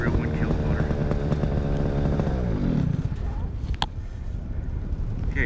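A paramotor engine drones loudly and close by during a landing approach, its pitch sliding down as the throttle comes off, then a rougher, rushing low roar remains with a brief sharp knock partway through.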